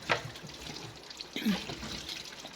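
Tap water runs and splashes into a sink while a bottle is washed, a soft, steady trickle heard close by with brief faint voice sounds.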